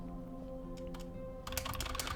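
Computer keyboard typing, a quiet run of scattered key clicks that grows into a denser, quicker burst of tapping near the end, with no voices.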